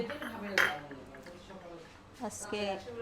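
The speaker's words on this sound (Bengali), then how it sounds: "ডাল ঘেটে নিচ্ছি, এটা মুগ ডাল ঝোল হচ্ছে বাসায়" Mung dal is stirred in a pot in a home kitchen, with a ladle clinking and scraping against the metal in a few close strokes while someone talks over it.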